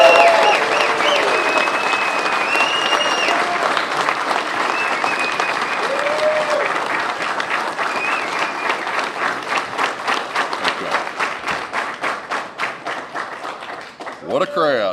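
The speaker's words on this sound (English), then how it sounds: "Big hand for Bill Cole." A large crowd at a political press conference breaks into loud, sustained applause for Senator Bill Cole, the clapping growing sharper and more rhythmic as it goes on, with cheers mixed in.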